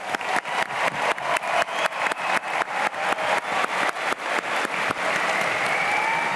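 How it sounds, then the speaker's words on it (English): Graduation ceremony audience in a large arena gives a round of applause, loud sustained clapping from a big crowd with rhythmic pulsing swells, settling into a smoother wash near the end. "Please join me in giving them a round of applause."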